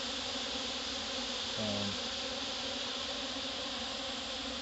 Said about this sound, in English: Ton of bees in there.